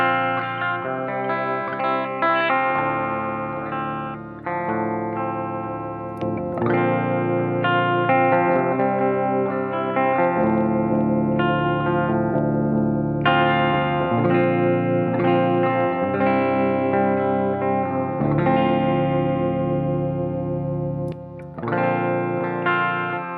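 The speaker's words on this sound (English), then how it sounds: "if you're playing the most clean tone you can get from your amp, but you still want to flavor it a little bit with a Dark Triad" Clean electric guitar played through a Dark Triad preamp boost pedal from Vein-Tap, adding slight warmth and richness; sustained chords and arpeggiated notes ring out steadily and fairly loud with short pauses, alone with no voices.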